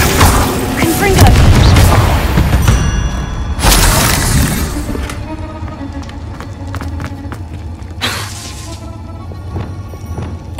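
Confringo spell explosions in Hogwarts Legacy, loud fiery blasts near 1, 3.5 and 8 seconds, each with a crackling rush, set against a busy game mix with a voice calling out.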